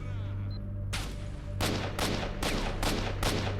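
Loud bursts of gunfire ring out in STALKER's Red Forest fighting, several heavy shots in quick succession over a low steady hum.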